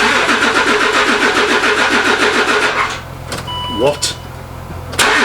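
Land Rover Discovery 3 engine cranking and catching, a steady rhythmic churn for about three seconds before dying away, followed by faint clicks and a brief voice.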